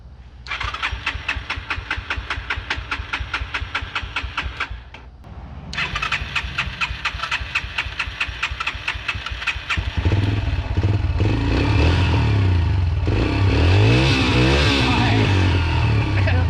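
A Yamaha TT-R125 dirt bike being revived: rapid kick or crank pulses, a first attempt that dies out, then the engine catches and revs loudly and steadily near at hand.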